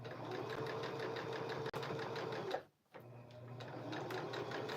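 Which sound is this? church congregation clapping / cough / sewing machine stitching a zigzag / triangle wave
sewing machine stitching a zigzag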